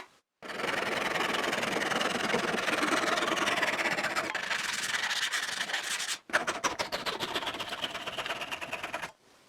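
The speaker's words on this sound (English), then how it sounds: "I cut off the excess thin plywood." A saw cuts off excess thin plywood on a DIY router table build, a continuous rasping buzz of about six seconds, a brief stop, then a second shorter cutting burst, loud and close with no talk.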